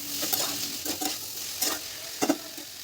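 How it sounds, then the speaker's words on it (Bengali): Mixed vegetables with cumin powder, turmeric and salt frying uncovered in a pan, with a steady close sizzle broken by four or five separate scraping stirs of a spatula. "সবজিগুলোকে খুব ভালো করে ভেজে নেব"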